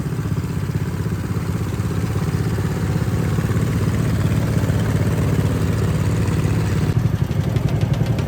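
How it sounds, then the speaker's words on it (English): A riding lawn mower engine runs steadily at sunset while the mower drives along, towing a small homemade utility trailer; a continuous close, loud mid-pitched drone with rattling clatter, no speech. "Don't y'all just love sunset driving on mowers?"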